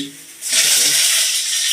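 Curry leaves hit a hot pan with a sudden loud hiss that swells and holds as a steady sizzle, cooked village-style for a chicken meal.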